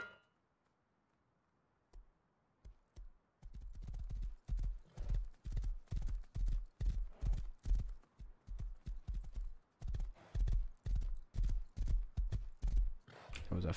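Horse hooves clip-clop steadily in the survival game Rust, a fast rhythmic run of close, loud hoof strikes that starts after a near-silent opening and carries on to the end, with a brief whinny-like sound and some talking mixed in.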